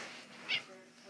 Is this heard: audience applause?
no